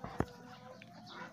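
A chicken clucks outdoors on a farm while eating alternative livestock feed, one short sharp cluck heard faintly over steady background noise.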